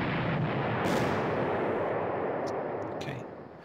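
Bomber strike explosions in the WWII strategy game Panzer Corps, a loud sustained rumbling barrage of blasts and booms that swells early on and then fades out toward the end.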